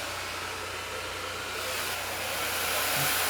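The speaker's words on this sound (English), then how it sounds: "you don't realize the noise of the blow dryer and even the brush going through your hair" A blow dryer drones steadily and fairly loud for several seconds, a continuous whooshing hiss that swells slightly toward the end, heard alone without voices.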